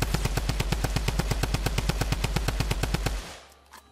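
Rapid, evenly spaced bursts from a Tommy gun in the Fortnite video game, about twenty loud, close shots in a steady rhythm before the fire cuts off and a brief quieter mechanical tail follows.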